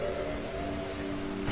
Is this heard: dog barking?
no